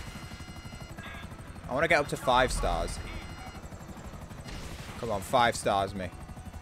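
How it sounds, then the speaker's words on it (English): An attack helicopter in the video game Grand Theft Auto V hovers with a steady low rotor drone beneath someone talking excitedly, with bursts of gunfire and explosions around it. "I bet it's quite a sight to see, just this fucking attack helicopter shooting everybody"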